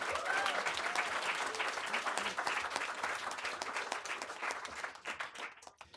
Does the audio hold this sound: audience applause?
yes